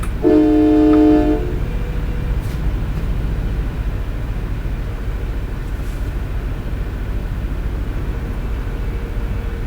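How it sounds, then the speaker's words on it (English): A brief train horn blast at the start, then a long steady rumble of a train rolling past, with a couple of faint clicks. "Yeah, I hear a train."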